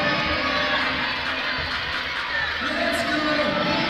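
Basketball bench players cheering on the Orangeville A's at the WFCU Centre, blended into a loud, steady arena crowd roar with shouts and voices throughout.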